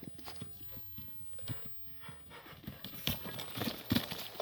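A horse trained for ulak turns and moves about, its hooves clip-clopping in an irregular quick rhythm at close range, with some rustling alongside.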